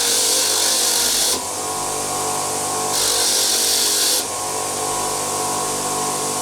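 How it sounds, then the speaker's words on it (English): A wire wheel cleaning rusty steel parts from a 1995 Trek 7000zx bicycle, a loud steady motor whine with harsh brushing bursts as parts are pressed against it twice, close up. "So these have been done over on the wire wheel"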